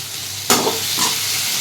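Onion and tomato sautéing in a pan, a quiet hiss that jumps into a loud bright sizzle with a couple of stirring scrapes, close up and without voices.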